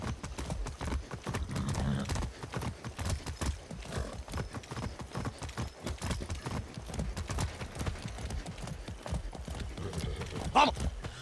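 Steady, rhythmic video-game horse hoofbeats clip-clop throughout, with occasional snorts and faint voices mixed into the busy background, in Far Cry 6.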